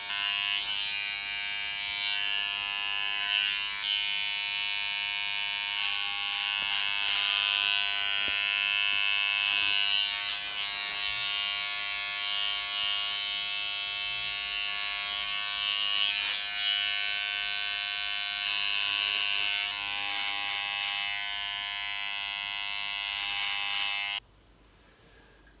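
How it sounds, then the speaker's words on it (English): Electric hair clippers buzz steadily and close by as they run along a comb through hair during a barbershop cut, a constant high hum that cuts off abruptly near the end. "running the clippers along the comb"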